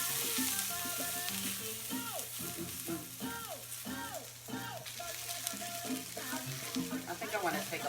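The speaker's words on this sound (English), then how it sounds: "Sizzle, sizzle." Steady frying sizzle of food in oil in a hot pan, with intermittent stirring and scraping sounds mixed through, close and continuous.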